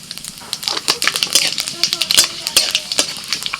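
Bay leaf, dry red chili and five-spice seeds crackle and spit in hot oil for a Bengali tempering, with dense, loud popping bursts close up while a voice speaks over the frying.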